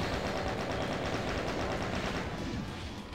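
A chaingunner enemy in a modded Doom map sprays rapid, continuous gunfire, a dense and sustained rattle that fills the whole stretch with no pause.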